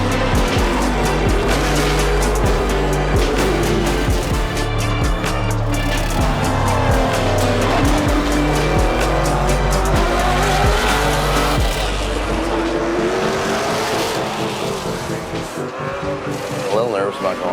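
Race cars drifting on the Denver Raceway track roar loudly and continuously close by, with shifting engine pitch and long screeching tire squeals. Voices may be mixed into the din.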